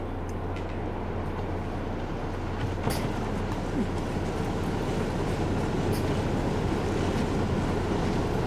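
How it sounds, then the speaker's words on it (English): A train passes in the video game Ghost Recon Wildlands as a loud, steady rumbling roar with a constant low drone. A couple of faint clanks sound within it, and no one speaks. "Watch out for the train."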